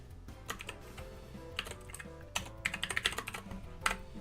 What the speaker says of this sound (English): So, we're just going to type in move in here.